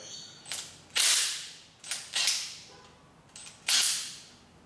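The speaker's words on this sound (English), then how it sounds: "now I'm going to undo my top cap" A wrench works loose the front fork top cap on a 1990 Honda XLR250 Baja motorcycle, giving several sharp metallic cracks and ratcheting clicks in irregular bursts, close and loud, with no speech.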